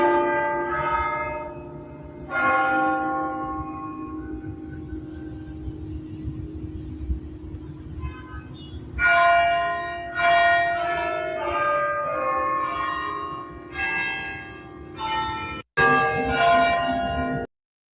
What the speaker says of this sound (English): Here are some church bells for all that need to hear it.